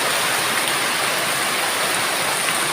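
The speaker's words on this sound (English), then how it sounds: "lovely little bit of rain, and it will water the fan" Steady rain falls over countryside in the Philippines, a dense, even hiss of drops with no pauses, close and fairly loud throughout and no voices.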